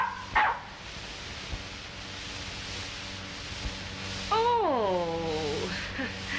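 A small dog on a hissy 1932 film soundtrack gives one sharp yip at the start, then a longer whining, falling bark-howl later on.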